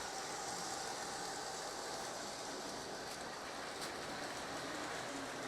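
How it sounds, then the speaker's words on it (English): A reconditioned Lionel O gauge model train set runs on a 5x8 relay-controlled layout, giving a steady, faint rolling rumble and hiss that holds evenly throughout with no talking. "Wait till the Amtrak will come around here and you'll see the blinker and the gate."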